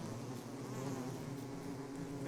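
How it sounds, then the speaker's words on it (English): A dense, steady swarm of bees drones continuously in the game Don't Starve, a thick unbroken buzz filling the whole moment without pause or voices. "there's more bees up here"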